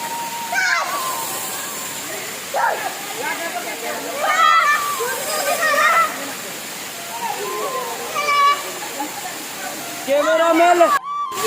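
Water pours and splashes steadily at Damodarpur waterfall while people bathe, with sloshing bursts as bodies move through the water and voices talking and calling out over the constant rush.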